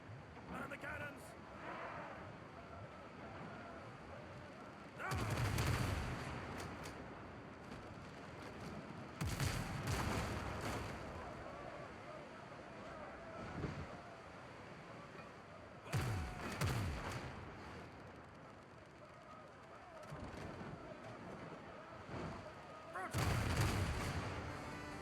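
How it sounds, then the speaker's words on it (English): Ship cannons booming in the pirate sailing game Windrose, several heavy blasts spaced apart over a bed of wind and waves, loud and close, with a voice talking in between. "And the cannons."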